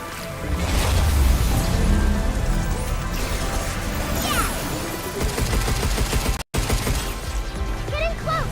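Rapid gunfire rattles in the Pragmata video game, with a dense, continuous clatter of shots and impacts under game sound effects and occasional voices, loud and close throughout with a brief dropout near the end.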